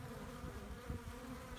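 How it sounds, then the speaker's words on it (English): Honey bees buzz steadily around a pail feeder of sugar syrup set on a level block, a soft continuous drone with several insects droning close by at once. "let's just watch the bees coming and going here for a bit"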